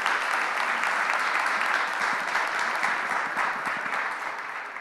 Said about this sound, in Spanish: Un aplauso espontáneo, por favor, a los panelistas.